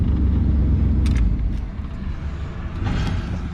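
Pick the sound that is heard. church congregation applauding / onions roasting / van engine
van engine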